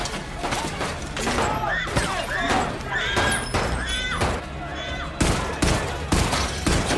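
Gunfire in a shootout scene from the film Death Wish, with repeated sharp shots and rapid bursts echoing over dense sound effects across the whole scene.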